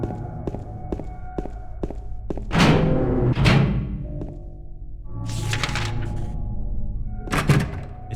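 A locked door in Silent Hill 2 thunks and rattles as it is tried, a few dull knocks and thuds followed by harsher scraping bursts, close and isolated with no talking.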